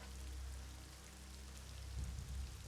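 Steady rain falls in Elder Scrolls Online, a soft continuous hiss with low rumbling beneath, swelling slightly near the end, with no voices.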